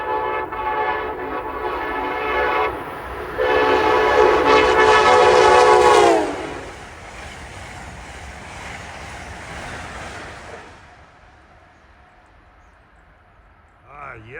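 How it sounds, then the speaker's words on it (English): Amtrak train 88 from Norfolk, Virginia to Boston arrives at Princeton Junction, New Jersey. Its horn sounds loudly in two long blasts, then a steadier rolling rumble of the passing train fades away. "here comes train 88, Norfolk, Virginia to Boston at 1:57"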